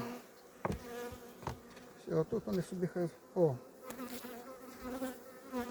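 Honey bees buzz in uneven bursts near the listener as a hive is opened in December, with a few sharp knocks and a brief voice speaking over them.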